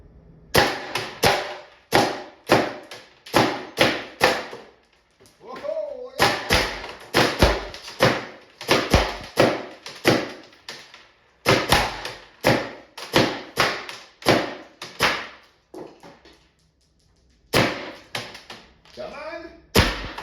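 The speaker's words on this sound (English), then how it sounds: "I'm just gonna get in a little closer and kind of fire in downward angle" A Spyder Victor paintball marker powered by a 3 oz CO2 tank fires sharp rapid shots into a trap from close range, landing in quick bursts of several pops with brief pauses between them.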